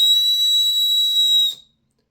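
A handmade whistle shaped with finger and thumb forming its sides, blown in one steady, piercing high tone for about a second and a half before cutting off sharply into silence.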